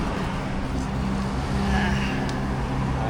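Road traffic crawls through Tagaytay, with car engines close by and a vehicle passing as the sound swells briefly in the middle, over a steady low rumble.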